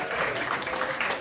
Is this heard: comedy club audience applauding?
yes